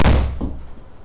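An 8 iron strikes a golf ball in a soft-carry shot during home practice on a GS Pro simulator, one sharp, close thunk followed by a brief softer thud as the ball lands, with no talk.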